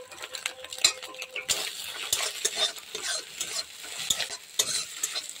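An egg fries in a pan with a pinch of salt while a spatula scrapes and stirs it, close metallic clinks over a bright, continuous sizzle, for an egg chowmein.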